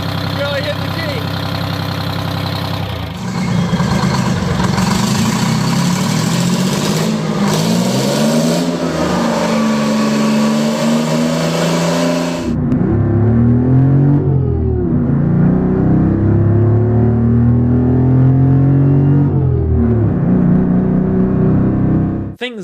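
Detroit Diesel 53 and 71 series engines run and rev in turn, a loud close growl rising and falling in pitch through several revs, with a narrator talking over it.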